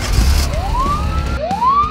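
A cartoon police car siren wails in two rising sweeps, loud and close, over a busy animated soundtrack with no speech.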